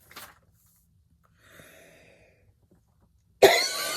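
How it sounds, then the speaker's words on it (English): A person coughs: a small cough at the start, a quiet breathy stretch, then one loud, harsh cough near the end. "I'm still trying to get rid of this cough."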